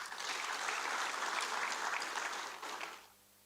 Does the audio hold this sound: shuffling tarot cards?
no